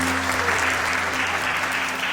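Wedding guests at a Nepali wedding ceremony applaud in thanks, a steady, dense wash of clapping with a low hum beneath it, continuous from start to end.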